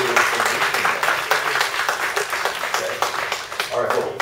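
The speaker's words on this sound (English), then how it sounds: "I think our applause for Lionel" A seminar audience on social media legal risks applauds a speaker, giving a few seconds of steady crowd clapping with a voice partly over it.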